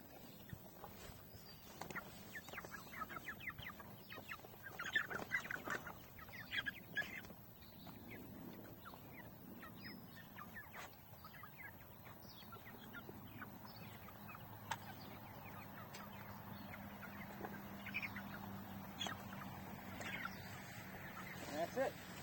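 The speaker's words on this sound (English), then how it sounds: "But that's this breed of chicken." Young chickens about four weeks old cluck and peep faintly in a quiet coop, with soft scuffling and occasional low voices in the background.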